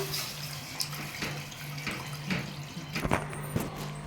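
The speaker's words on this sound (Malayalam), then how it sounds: "അപ്പൊ നമുക്ക് ഇതിലേക്ക് ഇച്ചിരി വെള്ളം ഒഴിച്ചു കൊടുക്കാം" Water runs and splashes steadily into a pan for a few seconds, with a low hum underneath and a few clinks near the end.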